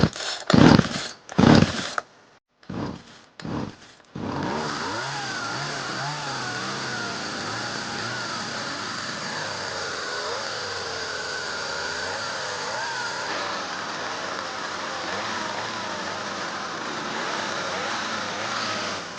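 A small McCulloch MacCat 435 chainsaw engine sputters through several quick pull-start bursts, then catches and runs continuously, its revs rising and falling under a steady buzzing drone.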